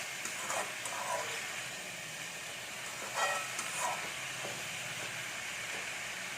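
Brinjal pieces sautéing in oil in a pan, a continuous steady sizzle with a few slightly louder surges of crackling, moderate volume and no voices.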